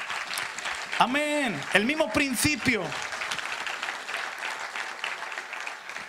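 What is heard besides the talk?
congregation applause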